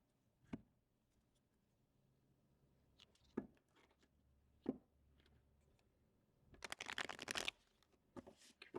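Crisp riffling bursts of slightly bowed tarot cards being shuffled, a few separate snaps and flicks, then a longer dense ruffle near the end, close and fairly quiet.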